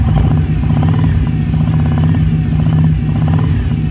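A 2011 Vaquero motorcycle fitted with a Big Air Kit cold air intake idles steadily and loudly up close, a continuous low rumble with light mechanical clatter throughout.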